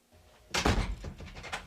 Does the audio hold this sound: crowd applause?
no